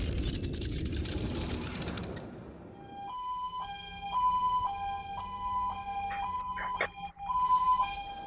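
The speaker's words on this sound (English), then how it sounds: "That unique sounding siren is known as the high-low siren." After a burst of noisy rumble, a two-tone high-low evacuation siren alternates between high and low pitches in a steady back-and-forth pattern, with clatter midway.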